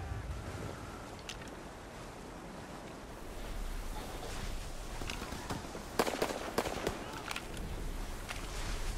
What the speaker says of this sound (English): Mortars ready! Explosive dropped!